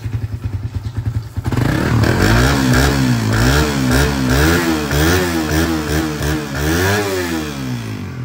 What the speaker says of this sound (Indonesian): jangan motor kok kayak ngene rek rek lo uh halus halus eh, lembut